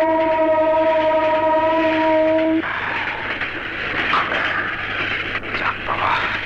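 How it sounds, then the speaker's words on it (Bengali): A train in a movie scene, heard as a loud steady rumble of running rail cars, with a tonal whistle or horn-like drone in the first two and a half seconds before it cuts away to continuous rolling noise. "যাক বাবা, ট্রেনেতে উঠেছি"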